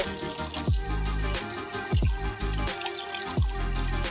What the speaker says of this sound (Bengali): এবার ঠাকুর বাসন ধুতে বসেছে